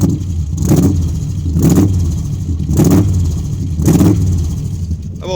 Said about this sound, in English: This is my 68 AMC Javelin 343 high compression 4-speed.